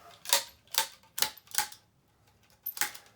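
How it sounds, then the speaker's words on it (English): Tennis racquet strings being cut out of a Solinco Whiteout 305, five sharp snipping snaps at an uneven pace, close and crisp against a quiet background. "Cut the strings out."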